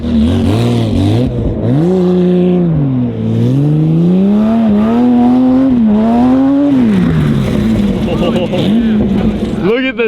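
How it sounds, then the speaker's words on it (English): A Ferrari Testarossa sliding and off-roading in dirt gives a loud, close engine note that rises and falls through repeated revving swells. Voices are heard talking throughout. "Get some Rally Ferrari off-roading"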